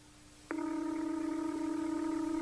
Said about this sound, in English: Answer the dang phone!